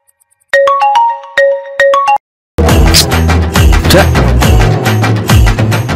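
A mobile phone rings loud and close with a bright electronic melody of repeating beeps for about two seconds. After a brief silence, loud background music takes over.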